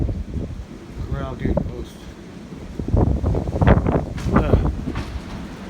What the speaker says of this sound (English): It's just the wind is so strong.